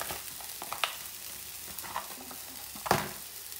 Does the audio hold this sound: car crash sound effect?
no